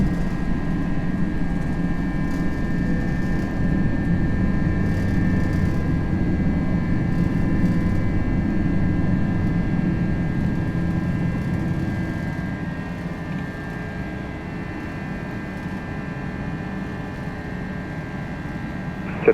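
Airbus A321 engines in a flight simulator roar in a steady, broad jet rumble during takeoff, easing slightly in level toward the end, with no talk over it.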